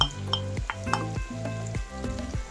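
Clams and mussels dropped into a hot pan and stirred, loud steady sizzling broken by clinking shells and utensil scrapes against the pan, close up.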